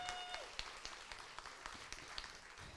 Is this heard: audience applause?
yes